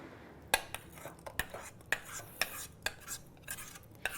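A metal utensil scraping and tapping against a cooking pot while a mixture is cleared out, about eight sharp clinks at an uneven rhythm with soft scraping between them, close and fairly quiet.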